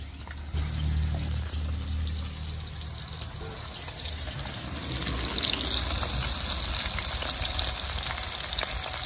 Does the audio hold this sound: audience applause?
no